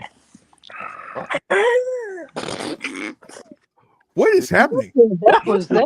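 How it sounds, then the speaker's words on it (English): A dog moans and whimpers in drawn-out, wavering cries, close and fairly loud, broken by short gaps, with people talking over and between the sounds. "that was the dog moaning"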